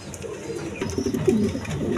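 Lahori pigeons coo in low, throaty bursts close by, with a clear coo near the end over a soft background.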